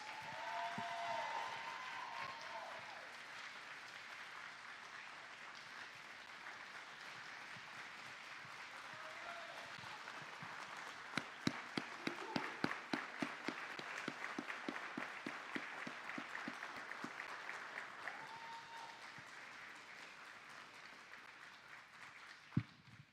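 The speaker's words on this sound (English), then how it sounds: "Let's give him another round of applause, ladies and gentlemen." Sustained audience applause at a Navy retirement ceremony, a steady wash of clapping that grows denser with sharper claps midway, then gradually thins out.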